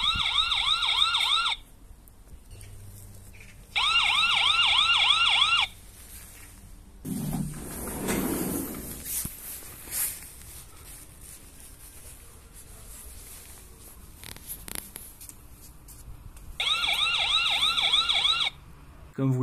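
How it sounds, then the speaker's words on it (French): A loud electronic warbling security camera alarm siren from a Shiwojia S598M sounds in three short bursts, each lasting about two seconds, separated by quieter stretches of faint handling noise and rustling. "j'ai testé la sirène d'alarme, je vais vous faire écouter"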